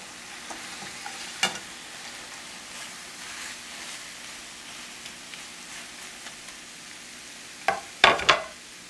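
Beef for stroganoff sizzling in a pan as the meat goes back in, a soft steady frying hiss with a few sharp crackles and spatters, the loudest bursts near the end.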